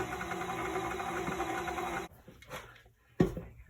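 An electric mixer whirs steadily through banana bread batter for about two seconds, then cuts off, leaving a few quiet scraping knocks and one sharp bump near the end.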